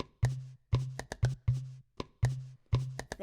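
Short clicky hits made from the sound of a water bottle closing play against a deep kick pattern, giving a looping rhythmic beat of crisp ticks and low thumps, close and isolated.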